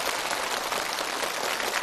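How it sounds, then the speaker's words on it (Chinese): Studio audience applauding a contestant on a challenge show, a steady, moderately loud wash of many hands clapping with no talking. "好，让我们掌声给他鼓励。"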